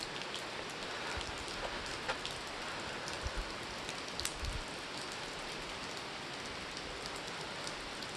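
Steady rain pours onto surfaces and pools into a growing puddle at Stargap, a dense, even hiss throughout with a few louder drips and splashes standing out near the listener.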